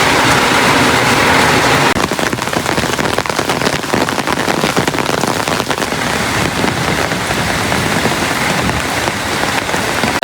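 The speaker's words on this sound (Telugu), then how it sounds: "సో బయట అయితే ఫుల్ వర్షం పడిపోతుంది" Heavy rain pouring outside in a village, a dense, loud, unbroken hiss of drops striking surfaces, steady throughout and close by, with no talking.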